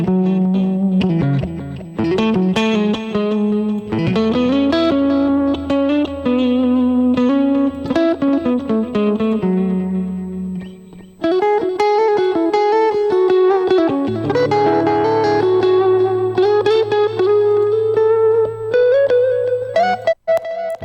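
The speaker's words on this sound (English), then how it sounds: "Okay, so obviously you heard the delay on there." KiloHearts Delay plugin on a distorted, sustained melodic instrument line with stereo reverb plates, the echoes repeating each note in a loud, continuous phrase.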